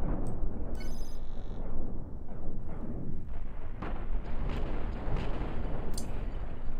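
Cannons firing during a space-ship battle in the Cosmoteer video game, a rapid run of heavy booming shots mixed with sharp electronic blips and pings, loud and continuous with no speech over it.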